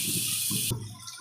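Water pours with a brief hissing rush into a pot of fish curry with onion, green chili, ginger-garlic paste and peas, then cuts off abruptly into quieter cooking sounds.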